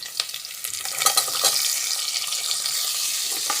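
Onions and curry leaves sautéing in oil in a pan: a dense, bright sizzle with a cluster of stirring scrapes early on, then steady frying hiss continuing alone to the end.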